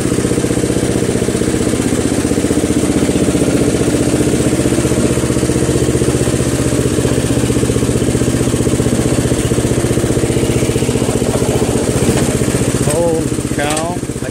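A Murray Select 12.5hp riding lawn tractor with a 40-inch deck runs steadily while driving, a loud, close, continuous engine drone with mower clatter throughout, easing slightly near the end.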